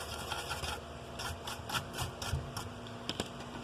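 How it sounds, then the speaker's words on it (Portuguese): A brush scrubs isopropyl alcohol across a soldered circuit board, making soft, rhythmic rubbing and bristle strokes, faint and close, in repeated short passes with no speech. "Vou colocar o álcool isopropílico aqui na placa e um pincel para estar limpando aqui."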